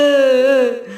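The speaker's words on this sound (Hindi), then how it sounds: "लगता है ये किसी के रोने की आवाज है।" A cartoon character crying in a jungle setting, a single sustained wailing tone that holds steady and then trails off, close and loud.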